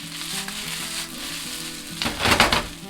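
Japanese-style fried rice sizzling steadily in a hot pan, then a louder burst of frying and scraping as the rice is tossed toward the end, close up with no talking.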